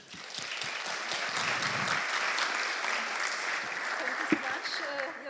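An audience at an xTEF event in Berlin applauds an incoming speaker, dense clapping that stays fairly steady and close, with scattered louder claps and a faint voice near the end.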